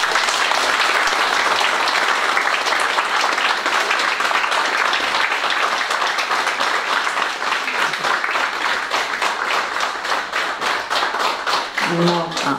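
An audience applauds schoolchildren after their performance for seniors, with dense, steady clapping that carries on for about twelve seconds and thins slightly toward the end.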